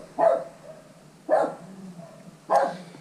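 A dog barks three times at steady intervals, each bark loud and close, recorded in a garage holding vintage JAWA motorcycles.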